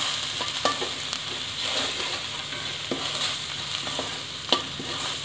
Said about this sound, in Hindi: देखिए मेरे मसाले अच्छे से फ्राई हो गए